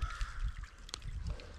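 A crow caws a few times beside a shallow, partly frozen river in late-winter ice, the calls moderately distant over a steady low rumble of wind or water.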